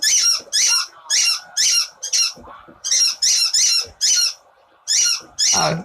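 A dog repeatedly squeaks a red spiky squeaky bone toy, loud close bursts in quick rhythmic runs with short pauses, no talking.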